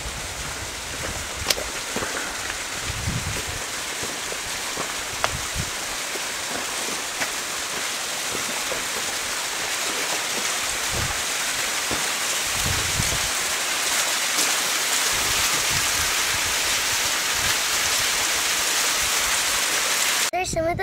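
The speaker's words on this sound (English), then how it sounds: "One of the many waterfalls you come to in San Gabriel." Steady broadband rushing of a seasonal waterfall in the San Gabriel Mountains fills the whole stretch, a constant nearby roar with occasional low thumps underneath.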